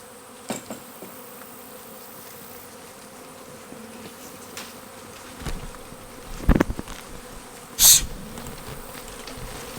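A swarm of bees on a felled tree buzzes continuously in a low, steady drone, with a few louder close passes and knocks along the way.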